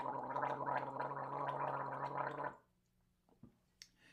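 A person gargles a mouthful of water, making a loud, close bubbling rattle for about two and a half seconds. It stops abruptly, followed by a few faint clicks and small mouth sounds.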